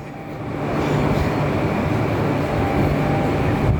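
A Transperth A-series electric train pulls out of Bayswater station, a steady loud rumble and hum building over the first second and holding, heard from close on board with no talk.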